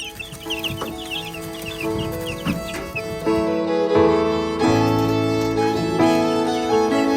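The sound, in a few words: baby chicks outdoors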